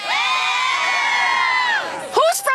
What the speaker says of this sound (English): Oh my gosh, look at this amazing crowd.